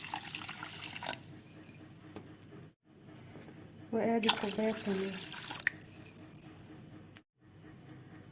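Water poured from a tap into a measuring cup, two cupfuls for a light basbousa syrup, a close splashing stream that stops and restarts, with someone speaking over it.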